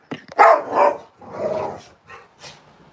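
A dog attacking a man, several loud, close barks with rough growling between them, bursting out in uneven clusters and trailing into shorter yips.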